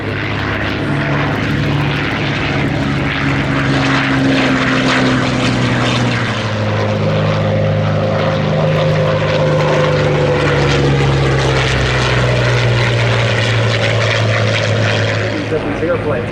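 A Focke-Wulf Fw-190A, a World War II propeller fighter, flies by with a loud, continuous engine drone whose pitch slowly shifts as it passes, and an announcer talks over it.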